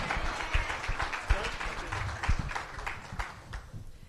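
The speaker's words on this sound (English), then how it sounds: "Big round of applause for our next panel as they make their way up." Conference audience applause at a climate summit as a panel of athletes walks to the stage, a steady spread of clapping from a large room with footsteps and scattered voices mixed in, tapering slightly at the end.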